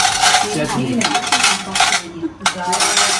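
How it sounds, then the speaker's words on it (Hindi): Dishes, pots and cutlery clatter and clink continuously as they are pulled out of storage at home, busy metallic rattling with a brief pause near the end. "मम्मी के नए बर्तन निकल आते हैं"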